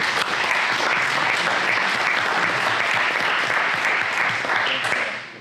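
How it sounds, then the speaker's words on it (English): Sustained applause from a crowd, steady and dense clapping throughout, fading slightly at the very end. "Can we get a round of applause for these people?"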